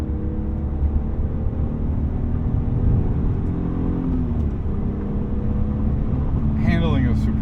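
A 1999 BMW M3 E36 drives along with a steady engine drone and intake whir from inside the cabin, holding an even loud tone with a slight shift midway; a voice speaks briefly near the end.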